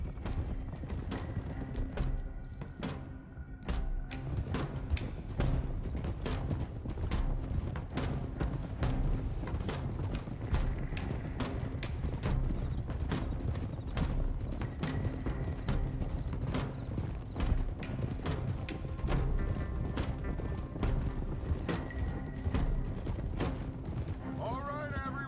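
Horse hooves clip-clop steadily in the Red Dead Redemption 2 video game, a continuous rhythmic trot of several riders under game music and voices talking throughout.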